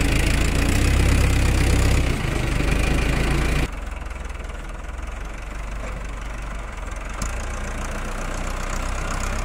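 A farm loader's engine runs while moving silage from the center of a storage pile, a steady close mechanical drone that drops in level partway through.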